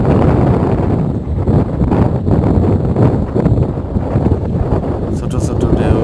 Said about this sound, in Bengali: হালকা বাতাস।